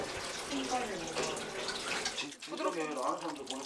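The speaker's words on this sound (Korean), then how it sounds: "매생이 두 죄기를 물에 담가 부드럽게 풀어주는" Maesaengi seaweed being soaked and loosened by hand in water in a kitchen in Jangheung, South Jeolla, giving continuous swishing and splashing close by, with a brief voice near the end.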